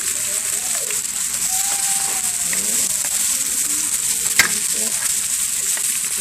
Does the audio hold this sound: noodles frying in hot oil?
yes